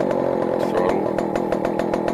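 A Stihl 041AV chainsaw, freshly repaired, running at throttle with a steady buzzing engine drone and rapid rhythmic pulsing, close and loud.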